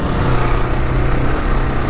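A 2022 Kawasaki KLR650 motorcycle engine running with its airbox snorkel removed, a loud continuous droning rumble at steady revs, close by with no talk.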